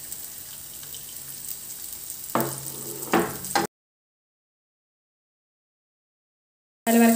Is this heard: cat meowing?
no